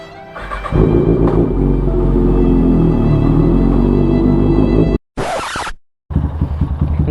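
A Kawasaki ZX-6R sport motorcycle rides with a loud, steady engine roar for about four seconds, then a brief sharper burst and a short gap before the engine picks up again, close and with no talk.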